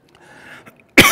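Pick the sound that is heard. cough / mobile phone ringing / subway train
cough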